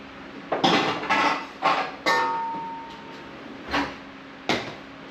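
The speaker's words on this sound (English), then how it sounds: "I'll grab my wok." A metal wok is picked up and set down in a home kitchen, producing several sharp clanks and scrapes with ringing decay, spaced irregularly and heard close with no talking.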